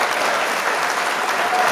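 A studio audience breaks into brief, loud applause, a dense burst of clapping with no voices.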